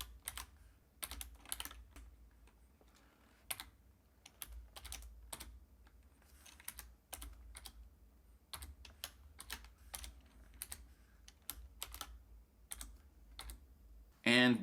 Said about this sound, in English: I'll type in that equation.